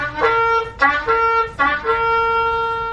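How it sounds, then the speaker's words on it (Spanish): A shofar blows shevarim, three short trumpet-like blasts in a row, each with a brief rough onset and a clear held tone, loud and close with no voice. "Shevarim son 3 notas cortas"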